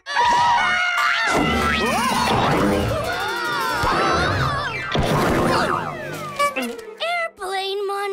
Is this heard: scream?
yes